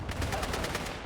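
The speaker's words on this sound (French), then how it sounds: "Neutralise leur calibre 50." A .50 caliber turret machine gun fires in a Battlefield 6 battle, a dense, continuous rapid burst with loud, booming low end and fast regular repeats throughout.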